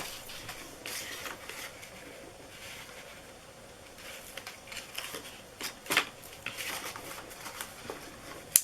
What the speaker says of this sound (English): So let's peel off the backings.